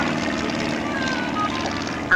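An L6 liaison airplane with a Franklin engine flies past at an airshow, its propeller drone steady and fairly loud throughout, with an announcer talking over it.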